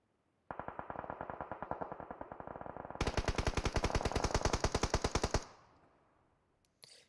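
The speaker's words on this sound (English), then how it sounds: "So here comes some shots from Aiman once again" Automatic gunfire in the mobile battle-royale game PUBG Mobile comes as rapid, evenly spaced shots: one long burst, then a louder, brighter second burst before it tails off into echo and a faint final click.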